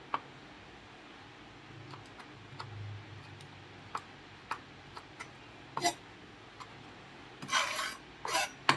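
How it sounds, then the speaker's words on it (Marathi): A knife cuts raw green mango into small square pieces, faint sparse ticks and scraping taps against a board coming at irregular intervals, growing a little busier and louder toward the end. "अशा पद्धतीने आपल्याला हे आंब्याचे चौकोनी तुकडे करून घ्यायचे"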